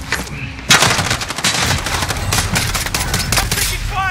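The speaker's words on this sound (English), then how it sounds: "I'm taking fire!" Rapid automatic gunfire from the video game Call of Duty Modern Warfare bursts in loud and close, with dense, sustained shots and little pause.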